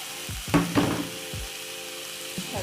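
Cut tomato with fennel seeds sizzles steadily in a pan for a spicy Kerala-style egg curry, while a spoon knocks and scrapes against the pan a few times in the foreground.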